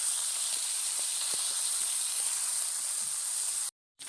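Fish frying in a pan for a Kerala-style mappas, giving a steady close sizzling hiss throughout with a few faint soft knocks, then a brief break near the end.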